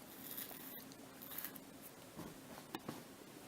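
Pen or marker writing a label for seed-starting cells indoors, quiet scratchy strokes with a few brief taps, close and faint against a soft background hiss.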